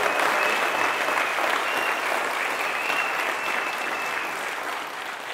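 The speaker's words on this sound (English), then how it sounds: "You can give me a round of applause." A crowd applauds at a Youth Day gathering in Khayelitsha, a dense, steady wash of clapping that holds at full strength throughout and tapers only slightly near the end.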